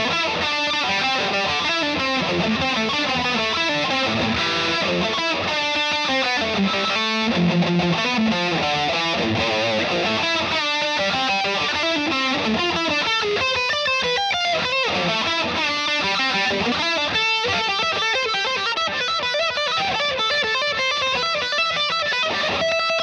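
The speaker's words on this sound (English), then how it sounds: "The bridge pickup can produce some very aggressive tones for any sections that are of rhythm with power chords" Manson MA-25 EVO electric guitar on its bridge pickup, playing aggressive distorted power chords in a dense, continuous rhythm with brief pauses between phrases, loud and close with no talking.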